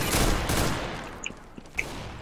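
A rapid flurry of close gunshots from CS:GO rings out loud at first, then tapers into fading echoes, with a few sharp metallic clicks and pings trailing after.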